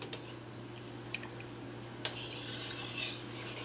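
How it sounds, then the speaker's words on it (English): Thickening apple jam being stirred in a pot, with faint, soft scrapes and occasional light clicks of the utensil over a low steady hum, quiet and close. "you want to consistently keep stirring it"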